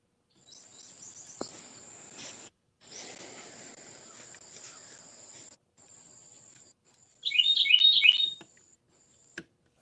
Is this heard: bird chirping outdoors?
yes